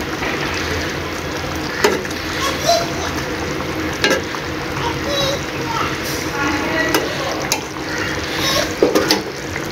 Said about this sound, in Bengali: এখন আমি একটু হালকা করে নেড়ে দিব